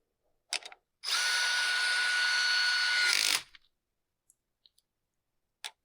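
A power drill drives small fine-thread screws into bushing inserts on a replacement fuel tank for a Husqvarna 592XP chainsaw, one steady whirring run of about two seconds, close and loud, with a few light clicks before and after.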